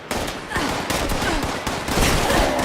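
Gunfire in the video game Fallout 76, loud bursts of rapid shots firing almost without pause, dense and close throughout.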